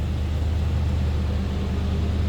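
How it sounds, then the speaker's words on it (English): A 1987 Chevrolet K10 pickup's 305 V8 idles with a steady, even low rumble through a mild stock exhaust, heard continuously at close range with no voices. "Nothing crazy over the top exhaust, just what you'd expect."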